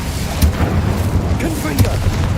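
A fire spell is cast in the Hogwarts Legacy video game, heard as a series of rumbling booms and bursts under ongoing game sound, loud and close throughout.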